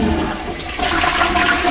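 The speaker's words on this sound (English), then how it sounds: "when I flush it, the water that fills up the tank behind the toilet is also water that I can use to wash my hands" A Japanese toilet in Kyoto flushes, water rushing loudly and close, then the tank refills through the hand-wash basin on top with a steady running trickle.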